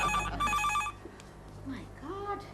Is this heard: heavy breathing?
no